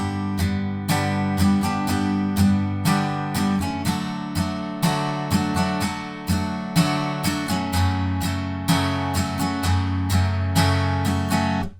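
Acoustic guitar strums the chorus of a song steadily in a repeating down-and-up pattern, bright chords ringing out loud and alone for about twelve seconds.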